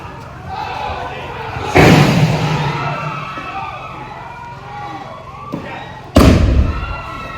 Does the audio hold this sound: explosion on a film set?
yes